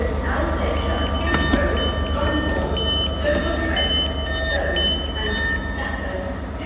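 Rumbling interior of a moving Transport for Wales train from Crewe towards Manchester, a low steady drone with rattles and faint electronic tones, muffled voices in the background.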